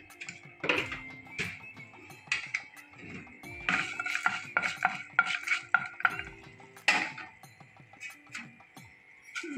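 Fenugreek, coriander and cumin seeds frying in a pan, with light clinks and scraping stirs against the metal in irregular bursts over a faint sizzle, close and fairly quiet.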